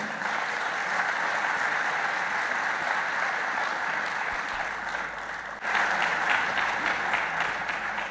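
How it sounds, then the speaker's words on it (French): An audience at the closing of a business summer university gives thunderous, continuous applause for Lahsen and Hussein Nourani. The clapping stays dense and even, then swells louder partway through. "mesdames, messieurs, un tonnerre d'applaudissements"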